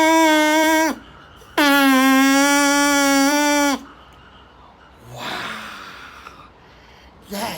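Two loud, steady buzzing squawks from a drinking straw whistle with its end cut into a bird's beak, the first brief and the second longer, each held at one pitch, followed by softer breathy noise.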